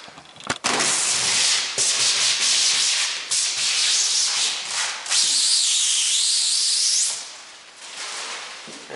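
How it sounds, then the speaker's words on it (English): Protective plastic film being peeled off a plexiglass sheet, a close, continuous rasping, crackling rip that stretches on for several seconds and then eases off toward the end. "So now I'm going to take off the protective plastic covering, and we'll see how the plexiglass looks."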